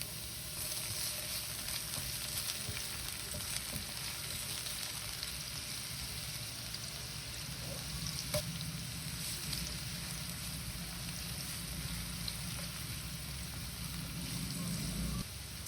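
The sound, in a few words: sautéing onion and garlic in hot cooking oil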